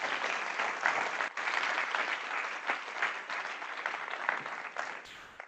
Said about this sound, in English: So I just want to give everybody a round of applause.